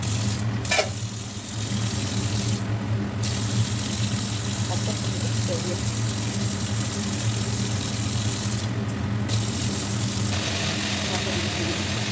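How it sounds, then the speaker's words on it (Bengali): Brains washed under steadily running water, a continuous rushing hiss over a low mechanical hum that runs throughout without pause. "এবার আমি ঘিলুগুলো জল দিয়ে ভালো করে ধুবো"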